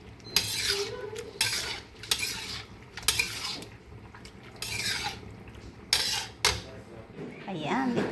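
A utensil stirs and clinks against a pan of egg tofu with prawn and spring onion, giving repeated scraping, clattering strokes over a light sizzle, with a voice talking intermittently.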